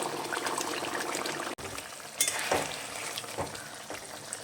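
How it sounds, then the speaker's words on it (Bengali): Pieces of fried shol fish go into a pan of radish curry, giving a steady bubbling simmer with soft splashes and a brief break partway through, and no talking. "মাছটা ভেজে রেখেছিলাম, এবার একটু দিয়ে দেব।"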